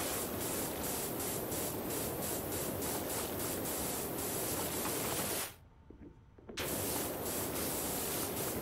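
Steady, loud hiss of a pressure washer spraying water in Powerwash Simulator while cleaning a carousel, a continuous blast that cuts out briefly near the end and then resumes.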